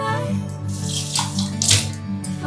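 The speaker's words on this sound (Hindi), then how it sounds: "पहले पानी डाल देती हूँ फिर ऑन करूंगी" Water is poured into a cooking pot for instant noodles, making a steady splashing gush that swells briefly near the end, close up and with no talking.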